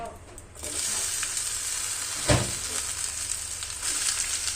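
Onions sizzling in hot oil with mustard seeds, curry leaves and red chilli while making South Indian sambar, a steady loud fry after a quiet start, with a brief clatter partway through.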